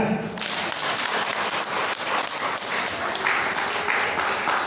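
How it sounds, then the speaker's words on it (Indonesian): A crowd at an Indonesian community event bursts into sustained applause, a dense, loud wash of clapping that swells in and holds steady throughout. "Aplaus buat mereka."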